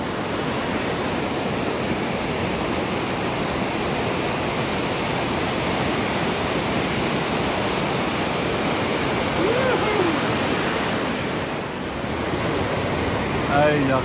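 A waterfall rushes steadily on a hiking trail near Zeballos, a loud, dense, unbroken roar of water close by with little variation throughout.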